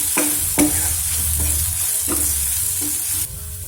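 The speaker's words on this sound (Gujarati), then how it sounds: "સાંતળી લઈએ।" Samosa filling with crushed whole coriander seeds sautéing in a pan, a steady low sizzle and fry with repeated scraping stir strokes throughout, close and fairly loud, no voices.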